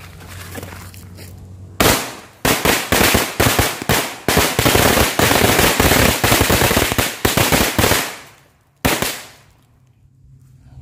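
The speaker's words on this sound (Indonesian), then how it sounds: "sekarang kita lanjut nyumet mercon korek 2 gepok" Two bundles of small match-type firecrackers (mercon korek) go off as a dense, rapid string of sharp cracks lasting several seconds, then a short final burst.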